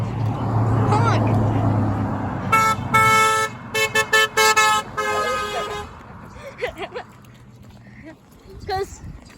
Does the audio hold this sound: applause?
no